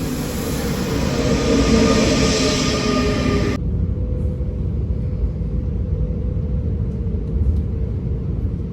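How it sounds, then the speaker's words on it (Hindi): A train pulling into a station, a loud steady rumbling roar with a bright hiss that cuts off abruptly partway, leaving the low rolling rumble to continue. "Train is here."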